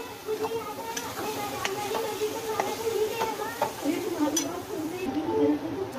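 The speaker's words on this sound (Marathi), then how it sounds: "पनीर टाकलं आपण त्याला व्यवस्थित हलवून घेऊया" Paneer and green peas are stirred in a frying pan, with soft scraping and tapping of a spatula against the pan in an irregular rhythm over a low background sizzle.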